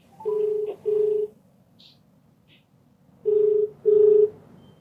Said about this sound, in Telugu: అయితే నేను కాల్ చేస్తానండి